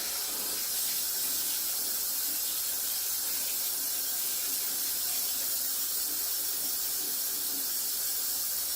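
Tap water runs in a kitchen for mixing gluten-free Jamaican fried dumpling dough, a steady bright hiss that holds at one level from start to finish, with no voices.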